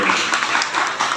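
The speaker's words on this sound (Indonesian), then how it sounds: "Tepuk tangan untuk SM Maryam." A short, dense burst of applause at a religious gathering, many hands clapping at once, fairly loud and filling the moment with no voices over it.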